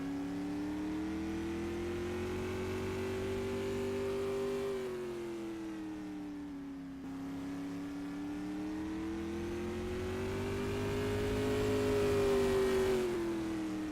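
A race car engine drones steadily through a time trial lap, its pitch rising and falling with each acceleration and lift, loud and continuous with no talking over it.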